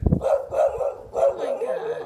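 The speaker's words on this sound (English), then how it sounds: "Oh, now there's a big puppy over here." A big dog barks and bays several times in a row close by, loud and throaty, with no talk over it.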